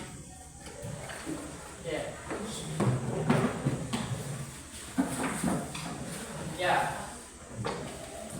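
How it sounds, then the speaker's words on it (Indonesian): Students pull their books out of wooden desk drawers in a junior high classroom, making scattered knocks, thumps and scrapes throughout while a teacher talks over them. "siswa-siswa tolong dikasih keluarkan bukunya yang ada dalam laci"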